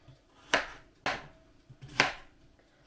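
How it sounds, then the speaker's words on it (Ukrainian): A knife slices potatoes into rounds about 1 cm thick on a board, three sharp, distinct chops spaced roughly half a second to a second apart, close and clear with quiet gaps between. "Я буду нарізати такими кружельцями приблизно 1 см товщиною"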